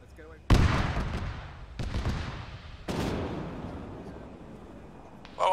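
Three loud, booming tank cannon shots in a military video game, spaced about a second apart, each with a long rumbling decay, with a sharp burst at the very end.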